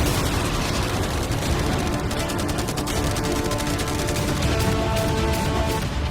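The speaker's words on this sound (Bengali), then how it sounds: "অনেক ফায়ারওয়ার্কস, অ্যারো এবং ক্যাটারপুলস, এই সব একসাথে তোমার ইয়টের দিকে এখন ছোড়া হবে।" A dense, continuous barrage of popping and cracking blasts, loud and unbroken, as fireworks, arrows and catapult shots are fired at once at a yacht.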